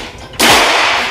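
A single sharp, loud air gun shot fired during a chronograph FPS test, a sudden crack with a brief decaying tail, close and alone.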